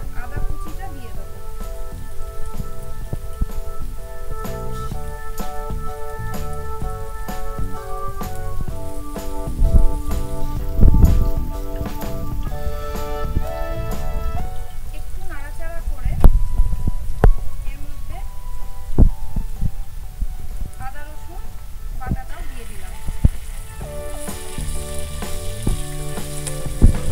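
Chopped garlic and ginger frying in two spoons of white oil for tawa chicken, a sustained crackling sizzle that swells at times, while background music and a voice carry on over it.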